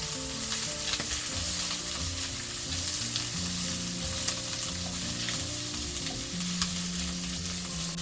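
Mushrooms and eggs stir fry in a pan, giving a continuous loud sizzle with occasional scraping stirs and faint low background tones, with no talk.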